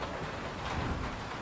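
Steady dense rain and hail pelt a surface in a continuous broadband hiss with a faint low rumble underneath, even and unbroken throughout.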